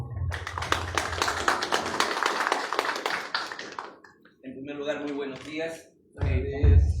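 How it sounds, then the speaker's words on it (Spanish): Seminar attendees at a family-law workshop applaud a speaker, a dense run of clapping lasting several seconds before fading, followed by someone speaking. "Fuertes los aplausos, por favor"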